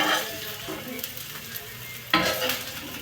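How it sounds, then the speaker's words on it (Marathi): Chopped onions fry over high heat in a pan for stuffed roasted aubergine, a steady close sizzle broken by a couple of stirring scrapes with a spoon. "थोडासा असा जाडसरच तळू द्यायचा आहे."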